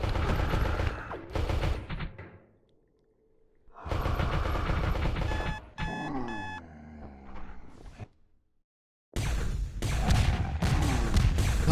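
Rapid bursts of shots from an Infinite Antique Laser Pistol in Space Station 14, loud volleys separated by sudden silences, with beeps and mechanical clicks in between; no talk.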